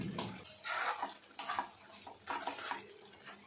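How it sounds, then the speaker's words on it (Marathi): Water poured into a pan of cooking vegetable curry in a home kitchen, a soft splashing pour in a few short bursts with brief pauses between them, fairly quiet and close, with no talk over it. "त्यामुळे मी पाणी थोडं टाकते"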